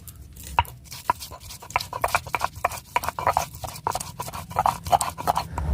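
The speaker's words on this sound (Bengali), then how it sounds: "এবারে বেটে নেব আদা" Ginger is ground into a paste on a grinding stone with quick, rhythmic scraping and knocking strokes that repeat steadily and sound close and fairly loud.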